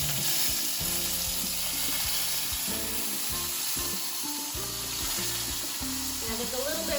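Cod tongues fry in a pan with a constant, close sizzle and spitting fat. Low scraping and stirring knocks come through underneath.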